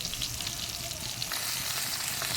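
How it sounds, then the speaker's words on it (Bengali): Pieces of rohu fish fry in hot oil, giving a dense, steady sizzle and crackle that stays loud and close without pause, with no voices. "এবার বন্ধুরা মাছটা ভেজে নেব। মাছটা তেলে দিয়ে দিয়েছি।"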